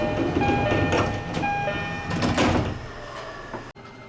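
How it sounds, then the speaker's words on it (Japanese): A Utsunomiya Line through-service commuter train pulls into Kawasaki station at speed, its broad rumbling rail noise steady and loud at first, then easing off and cutting out near the end. "宇都宮線直通、宇都宮行きが到着です。"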